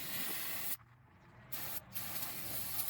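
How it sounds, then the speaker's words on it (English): Brake cleaner sprays from an aerosol can onto car suspension parts near the power steering, two steady hissing bursts separated by a short pause. "now we'll spray a bunch of brake clean down here, try to get rid of some oil"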